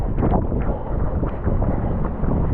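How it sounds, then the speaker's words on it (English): Wind roars and buffets the microphone in a steady, rough rush throughout, during an outdoor road run about 9 km in, with gusts swelling and easing. "the wind keeps changing direction."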